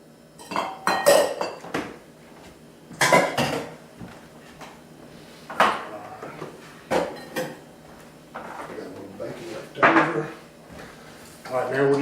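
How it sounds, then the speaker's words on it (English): A spoon mixes spinach pie filling with feta, Parmesan and egg in a bowl, producing intermittent clinks and scraping bursts, while someone talks throughout. "just going to mix all this together. This will be our filling"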